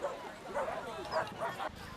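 Dogs yip and bark at an annual dog show held on a village green beside a marquee, with several short, moderately distant yelps over about two seconds above a steady murmur of crowd noise.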